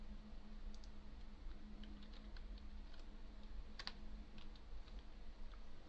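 Quiet, rapid clicking of keys on a computer keyboard over a steady low hum of room noise, in short irregular bursts, close by with no talking.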